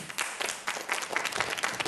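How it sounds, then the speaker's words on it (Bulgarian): Studio audience on a Bulgarian Saturday-evening TV show applauds, a lively burst of many hands clapping at close range, uneven and swelling in waves with no voices over it. "много аплодисменти"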